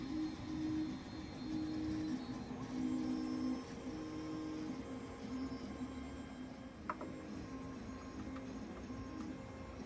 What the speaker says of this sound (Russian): Тем временем принтер Геркулес 2018 уже начал свою работу.